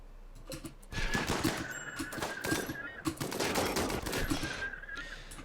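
LMG fire aimed at a centipede in a video game: rapid bursts of close, loud automatic shots crackle without a break across the whole stretch.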